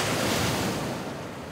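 Ocean waves washing onto the shore at a beach cooking spot, a loud broad rushing surf roar with wind buffeting the microphone, easing slightly toward the end, no voices.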